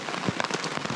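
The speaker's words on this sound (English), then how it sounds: "It's a rainy morning." Morning rain falls steadily at a campsite during a spring canoe trip in the Adirondacks, a close, continuous patter of drops striking surfaces with no talking.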